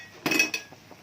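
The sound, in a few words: stirring instant noodles with tomato and chicken in a pan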